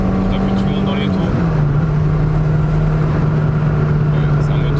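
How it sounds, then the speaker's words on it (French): A Citroen BX Millésime 1.9i petrol engine holds high revs from inside the car, a loud steady drone that dips slightly in pitch about a second in and then sustains evenly. "Et là, je monte un peu dans les tours."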